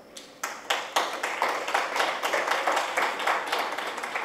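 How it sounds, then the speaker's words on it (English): An audience applauds at the end of a talk at an education conference, scattered claps at first building into steady, fairly faint clapping from a moderate-sized crowd. "Didn't I tell you they would clap when I'm just about to go?"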